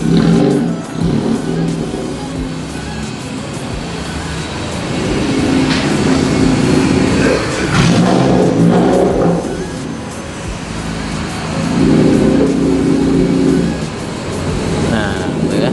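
A Honda Brio Satya Type R strapped to a dyno revs in rising, sustained pulls inside a tuning room, loud and close, with people talking over it.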